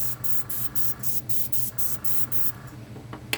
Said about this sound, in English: that's the airbrush